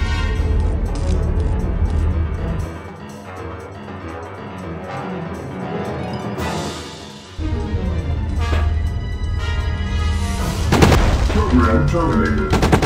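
Robot weapons fire in rapid bursts in Superman: Shadow of Apokolips, loud layered gunfire and booms that keep going over game music, with a short drop midway.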